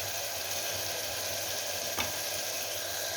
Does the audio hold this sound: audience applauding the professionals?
no